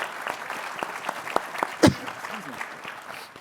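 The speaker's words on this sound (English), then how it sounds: "please join them and give them a round of applause" An audience at a financial inclusion summit applauds, steady moderate clapping that holds throughout with a few sharper claps standing out.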